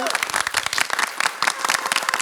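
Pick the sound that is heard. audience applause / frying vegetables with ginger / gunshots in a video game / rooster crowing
audience applause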